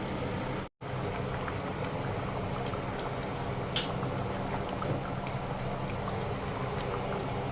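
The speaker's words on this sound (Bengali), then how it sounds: "আমি একটু গরম জল দিয়ে দিলাম এবার এটা ফুটবে মটনটাকে সেদ্ধ করবো একদম" Mutton and potatoes boiling in hot water, a continuous bubbling, rain-like patter close by with a short dropout near the start, no voices.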